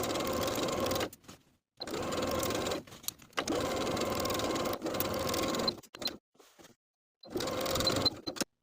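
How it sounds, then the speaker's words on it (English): Close and steady, a sewing machine hums through several runs while stitching over the folded edges of a waistband. Brief pauses and softer clicks fall between the runs. "sewing over those folded edges."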